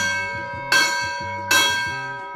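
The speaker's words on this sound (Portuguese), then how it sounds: "Então toda vez que o sino toca," Town bell in Areias, São Paulo, rung to alert shopkeepers that tourists have arrived: two clear resonant strikes a little under a second apart, each ringing out and fading slowly.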